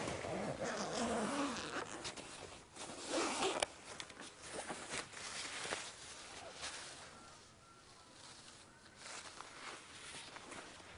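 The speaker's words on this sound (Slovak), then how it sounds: "Z tejto striežky si môžete urobiť ešte aj letnú striežku odzipsovaním tohoto zipsiku." Zipper on the canopy of a Camarelo Q12 baby stroller being unzipped, quiet ripping zip strokes up close, with soft handling noise and no talk.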